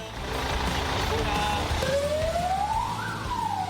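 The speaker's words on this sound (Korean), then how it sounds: "사이렌을 울리며 고성능 산불 진화차가 출동합니다." A wildfire fire truck siren begins to wind up and rise in pitch over a loud idling high-performance fire truck engine, with a voice talking briefly at the start.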